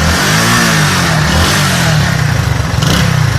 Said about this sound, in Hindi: हम रेस देंगे आपको आवाज़ आएगी